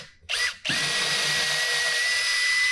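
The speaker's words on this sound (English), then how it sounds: "I'm gonna drill this over a pilot hole." A power drill drilling into wood over a pilot hole whirs in a short burst, stops briefly, then spins up again and runs steadily at a high, continuous whine, close by.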